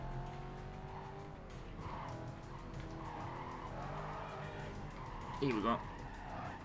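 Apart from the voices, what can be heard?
car tires skidding on corners in Need for Speed: Carbon video game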